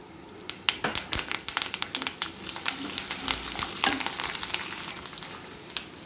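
Curry leaves, peanuts and cashews frying in a pan with dried red chillies, a steady sizzle broken by sharp crackling pops near the start, continuing close and loud throughout with no talk.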